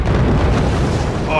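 Missiles blow up a fort in the Forts strategy game, a loud, low, rumbling explosion roar that fills the whole moment without a break.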